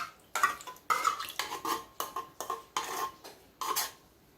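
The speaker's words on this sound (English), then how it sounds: "Now we start mixing." Buko pandan ingredients with Nestle cream mixed in a bowl, a steady series of about nine close clinks and scrapes of a utensil against the bowl in a loose rhythm.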